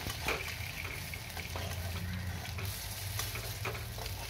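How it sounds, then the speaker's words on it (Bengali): Masoor dal (red lentil) fritters frying in hot oil, a continuous crackling sizzle with small pops, heard close and alone. "এখন একটা একটা করে বড়া দিয়ে ভেজে নেব"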